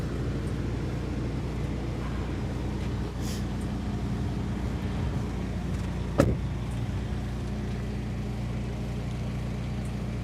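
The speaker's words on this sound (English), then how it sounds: "you have your power locks, unlock and lock" Power door locks on a 2024 Winnebago Navion 24D RV give a single sharp clunk partway through, heard over a steady low engine hum inside the coach.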